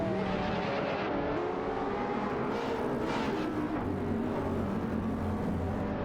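Two video-game race cars, a Nissan GT-R Nismo and a Lamborghini Aventador SVJ, roar continuously in an AI race with steady engine drone and shifting revs, loud and constant throughout.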